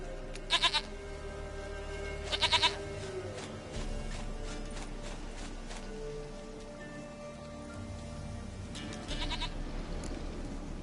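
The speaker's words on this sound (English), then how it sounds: "Goat of mine, dearest, sweetest goat." Goat bleats from The Witcher 3 sound in short bursts near the start, again around two and a half seconds, and near the end, over steady game ambience with mechanical noise.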